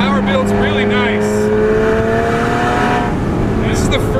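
Tuned 600 hp BMW N54 engine in a DTM-styled Z4 street car pulling hard under acceleration, a loud rising engine note sustained throughout with someone talking over it.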